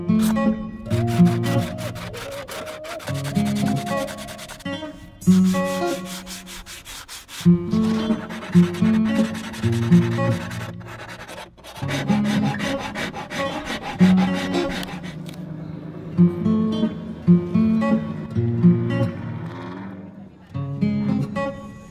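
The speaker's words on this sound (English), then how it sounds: "Sanding time. Just using a box. And I think this is a 60 grit." Bondo body filler on raised widebody fenders of an E36 being hand sanded with a 60-grit sanding box, close, coarse rasping strokes in bursts with short pauses between them.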